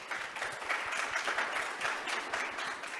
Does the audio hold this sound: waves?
no